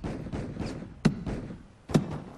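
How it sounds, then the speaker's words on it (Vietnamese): A hammer and chisel knock against the wall of a house, giving several muffled thuds and two sharper, louder strikes about a second apart, heard alone in a quiet room. "hình như có tiếng búa tiếng đục bên vách nhà mình nè"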